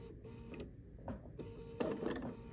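A Bernina sewing machine fitted with a #71 foot stitches binding around a quilt corner in short, intermittent bursts of mechanical whirring separated by pauses.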